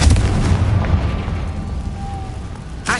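A Confringo blasting curse going off in the Hogwarts Legacy video game, a loud, rumbling explosive burst that decays over a few seconds, followed by a sharp crack at the end.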